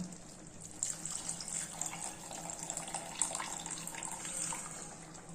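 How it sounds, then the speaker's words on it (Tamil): Tamarind water poured into a pot of boiling plantain curry on the stove makes a steady liquid splash and gurgle, close and moderately loud, continuous for several seconds with no voices. "இப்போ நம்ம புளி தண்ணியை ஊற்றிக்கலாம்"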